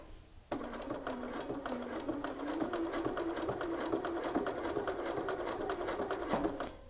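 A sewing machine starts abruptly and runs a straight line of stitching across a shirt pocket, a close, steady whirring rattle holding constant for about six seconds before stopping.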